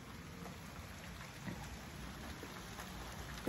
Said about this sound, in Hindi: बाहर देखिए बारिश हो रही है तेज बारिश हो रही है